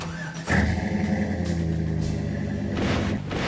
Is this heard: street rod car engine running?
yes